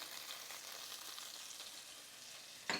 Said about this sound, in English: So we just want to lightly cook the garlic in there.